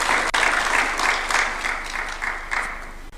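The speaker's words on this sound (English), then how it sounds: "Let's welcome him with a clap, please." An audience at a State House development cooperation event in Nairobi claps to welcome a speaker, producing a sustained, moderately loud wash of applause with gentle swells that continues throughout.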